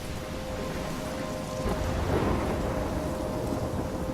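Thunderstorm with rain in the video game Life is Strange: heavy continuous rain hiss with a low rolling rumble of thunder swelling in the middle, steady and enveloping.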